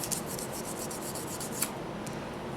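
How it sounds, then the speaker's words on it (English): Steady abrasive rubbing of sandpaper over a small hard piece of polymer clay, a continuous rasping scrape with one brief sharper scuff partway through. "give it a very quick sand and that should do"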